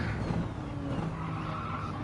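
A hypercar engine heard from the cockpit view in Gran Turismo 7, a steady loud drone with a sustained tonal whine and some tire noise, without any talk.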